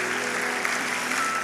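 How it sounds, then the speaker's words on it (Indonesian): Church congregation applauding during a sermon-led service, a steady dense wash of clapping heard from within the room, alone with no voices. "Kasih tepuk tangan yang paling meriah buat Allah kita"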